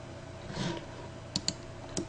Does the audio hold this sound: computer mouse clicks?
yes